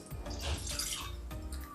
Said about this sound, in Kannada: ಇವಾಗ ಒಂದು ಬಾಣಲೆ ಬಿಸಿಗೆ ಇಟ್ಕೊಂಡು ಒಂದು ಅರ್ಧ ಲೋಟ ಆಗುವಷ್ಟು ನೀರನ್ನು ಹಾಕೊಳ್ತಾ